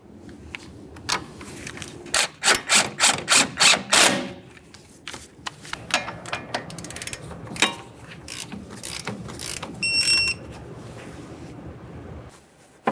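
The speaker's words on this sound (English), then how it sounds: "Snug it up, torque it to 35 foot-pounds." Socket ratchet snugging the upper control arm mounting nut on a 2006-2012 Ford Fusion front suspension, a burst of rapid close clicking runs in strokes around seconds 2 to 4, then sparser clicks and handling noises continue without talk.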